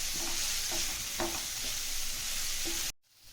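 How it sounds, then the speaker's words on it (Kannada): Soya chunks frying on a high flame give a steady loud sizzle, with a few scraping stirs of a spoon against the pan; it cuts off abruptly near the end. "ಇದನ್ನು ಹೈ ಫ್ಲೇಮ್ ಇಟ್ಕೊಂಡು ಇದನ್ನು ಚೆನ್ನಾಗಿ ಮಿಕ್ಸ್ ಮಾಡಿಕೊಂಡು ಫ್ರೈ ಮಾಡಿ"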